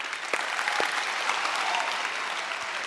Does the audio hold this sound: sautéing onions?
no